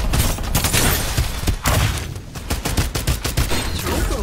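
Rapid gunfire in the battle game Farlight 84, dense continuous bursts of automatic shots with mechanical clatter, loud and close, running the whole stretch without pause.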